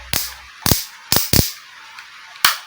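Five or six sharp plastic clicks from the speed selector switch of an AST AS 18BX brushless cordless drill, loud and close, spaced irregularly with brief quiet gaps between them.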